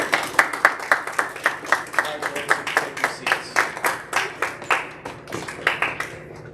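Scattered audience clapping for swimmers at a team swim event, a loose and fairly slow rhythm of individual hand claps in a room, moderately close, fading slightly toward the end.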